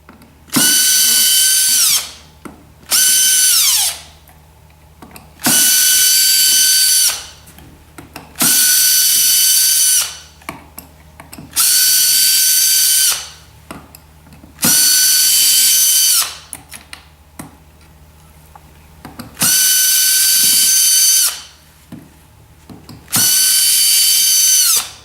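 Power drill backing out the screws that hold the plastic track on a Forti massage chair, loud whirring bursts of about two seconds each, repeated roughly eight times with quiet handling pauses between.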